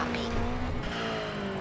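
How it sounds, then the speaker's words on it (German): A turbocharged Subaru WRX engine roars in the racing game Forza Horizon 4, a loud sustained whine with a rising pitch sweep and tire noise, heard under someone talking. "Aber die Turbo-Sounds, die sind gut."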